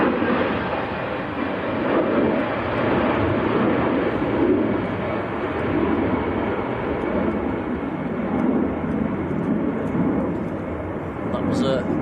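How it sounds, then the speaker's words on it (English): An EasyJet airliner departs Manchester Airport bound for Nice on a windy day, a loud, steady broadband jet roar sustained throughout with wind noise, while a voice talks faintly over it. "That was EasyJet to Nice down in the south of France"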